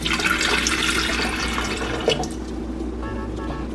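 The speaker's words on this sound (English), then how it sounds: "I'm going to pour the water into the tea kettle" Water pours continuously into a tea kettle, a close splashing gush that eases slightly toward the end, with no voices.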